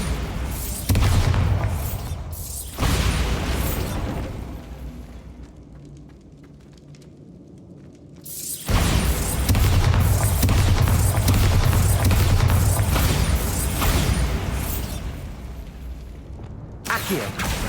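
Bombarda explosion spell going off in the Hogwarts Legacy video game: loud booming blasts with dense rumbling debris, a quieter lull, then another sustained loud burst of explosive roar.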